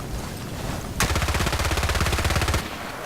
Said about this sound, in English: First I'm going to do hip fire accuracy,